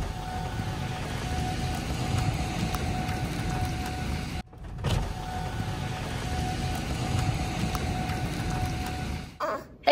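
Heavy rain pours during a storm in a steady, dense hiss with a low rumble underneath, briefly broken once, continuing without voices.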